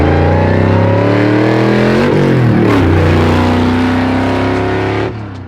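A 1,000-horsepower Hellephant-powered Dodge Charger engine revs loud and close, its pitch climbing and dipping through several throttle blips before easing back toward idle.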